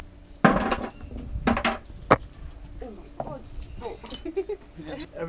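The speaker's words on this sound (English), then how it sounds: "We're gonna break some more bottles because we're running out of bottles." Glass bottles smashed outdoors to make a bed of broken glass for walking on: several loud sharp crashes followed by tinkling shards, with people talking around them.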